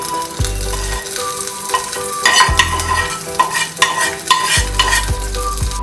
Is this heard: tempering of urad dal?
yes